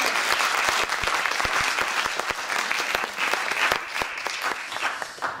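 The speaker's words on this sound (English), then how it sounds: "More applause." Applause from an audience at a talk on language diversity in Amsterdam, a few close, sharp individual claps standing out from the steady crowd clapping.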